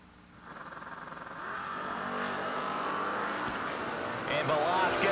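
An 89 Mustang drag race car launches at a drag strip, its engine rising from a low idle into a loud, sustained revving roar that builds over several seconds, with an announcer's voice audible.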